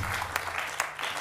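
Brief studio audience applause on a Georgian TV comedy joke contest, a short burst of steady clapping from a crowd with a couple of louder individual claps standing out.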